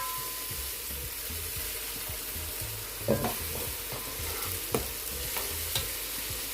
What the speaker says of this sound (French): Je vais rajouter ma mixture que j'ai eu à écraser.